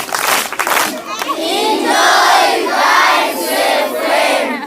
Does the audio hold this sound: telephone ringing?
no